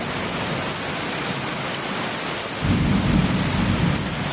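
A thunderstorm with heavy rain pours down steadily, and a deep rumble of thunder rolls in partway through and keeps going under the downpour.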